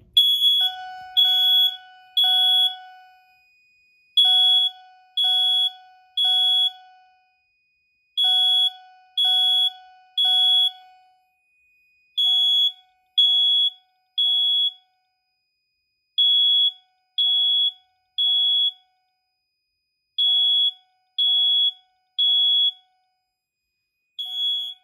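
A building fire alarm system sounds after a Firelight BG12L pull station is activated: loud electronic tones in repeating groups of three with short gaps, continuing evenly throughout with no voices.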